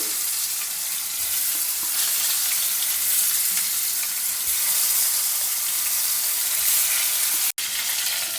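Stuffed brinjals fry over low flame in hot oil seasoned with spluttered seeds and hing, giving a dense, continuous close-up sizzle with a brief dropout near the end.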